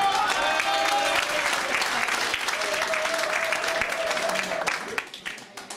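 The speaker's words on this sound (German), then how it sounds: "Applaus bitte." Audience at a shooting club ball claps in a loud, dense round of applause with some cheering voices, lasting several seconds before breaking into a few last scattered claps.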